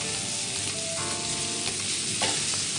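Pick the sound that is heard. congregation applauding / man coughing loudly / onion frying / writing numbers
onion frying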